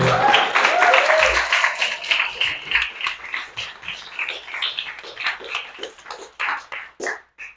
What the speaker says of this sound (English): Round of applause for Jackson.